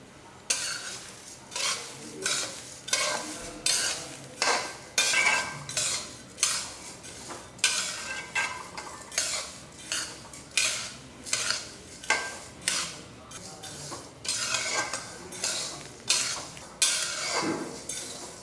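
Millet flour dry-roasting in a pan is stirred with a utensil in a steady rhythm, each stroke a close scraping swish against the pan, repeating about once a second with no voices.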